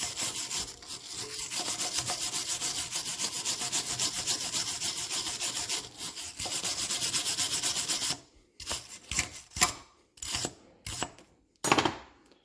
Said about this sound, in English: I'm going to grab a brush here, clean that off with a brush